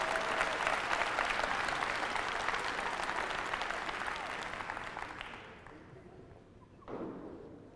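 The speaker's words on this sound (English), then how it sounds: "Can you give yourself a round of applause for even being here?" An audience at a university speaker event applauds loudly in a dense, sustained burst that gradually thins and fades, followed by a brief, smaller flurry of clapping near the end.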